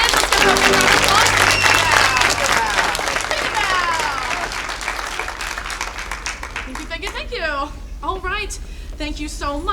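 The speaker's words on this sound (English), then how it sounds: "Let's give them a big round of applause." A theatre audience at a Snow White stage production claps loudly, the applause strong at first and then tapering off, with cheers on top and a voice beginning to talk as the clapping fades.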